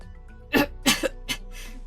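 A man in the video game Arknights gives a few fierce, harsh coughs, three or four bursts spaced a moment apart, clear and close with no talk.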